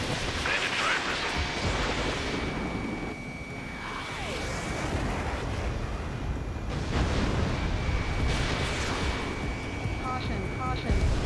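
An enemy missile launch in the Ace Combat 7 jet-combat game roars as a sustained loud rush of engine and exhaust noise, with cockpit warning tones and radio voices over it.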